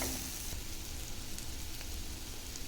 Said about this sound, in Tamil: உங்களுக்கு எவ்வளோ காரம் தேவையோ அவ்வளோ மிளகாத்தூள் போட்டுக்கோங்க வதக்கிக்கலாம்